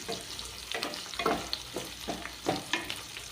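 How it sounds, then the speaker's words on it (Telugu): Mustard seeds, fenugreek, onion, and green and dried red chillies fry in hot oil for a tomato egg curry, with a crackling sizzle and repeated bursts from stirring, close and moderately loud. "ఆవాలు మెంతులు ఎర్రగడ్డ 2 పచ్చిమిరపకాయలు 2 ఎండుమిరపకాయలు వేసిన తర్వాత వేగించాలి బాగా."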